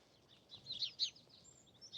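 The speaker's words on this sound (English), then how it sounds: "There's always a healthy population of house sparrows here." House sparrows at Rainham Marshes give several short, high chirps. The calls come in a loose, irregular cluster, faint and somewhat distant, over a quiet background.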